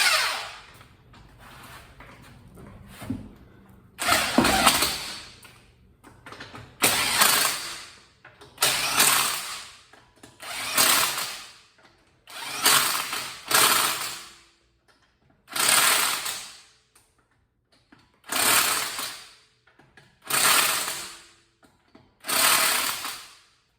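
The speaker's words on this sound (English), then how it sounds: "Use my 100 foot-pound torque stick" An impact wrench fitted with a 100 foot-pound torque stick hammers on a Mercedes S550 W221 in about eight loud, separate bursts of rapid rattling impacts, each lasting one to two seconds with short pauses between.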